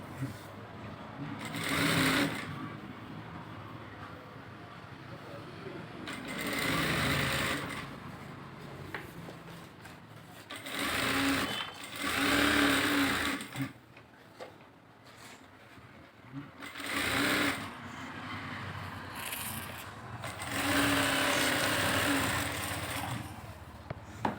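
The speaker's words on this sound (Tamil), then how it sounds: "இந்த இது லைனிங் துணியோட ப்ளவுஸ் துணியை சேர்த்து தையல் போடுறோம்" A sewing machine stitches lining fabric to blouse fabric in several separate bursts, each run a close, buzzing whir, with quieter pauses and soft talk between the stitching runs.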